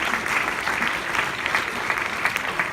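An audience at a Planet of the Apes 50th anniversary film panel applauds, with continuous close, dense clapping holding steady throughout.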